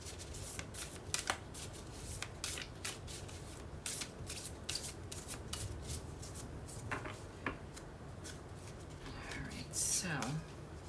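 Oracle cards from a Super Attractor deck shuffled by hand, a steady soft riffling and rubbing that runs throughout at close range, with light flicks and a brief louder rustle near the end.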